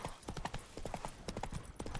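A horse's hooves clip-clop in the video game The Witcher 3, a quick rhythmic run of close, sharp hoof strikes that fills the whole moment, with no talking.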